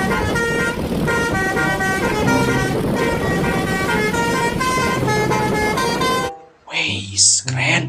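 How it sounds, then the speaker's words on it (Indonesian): A toy telolet bus horn plays a loud, continuous melodic tooting tune for several seconds over background music, then cuts off as a voice speaks. "Ada mobil bus telolet."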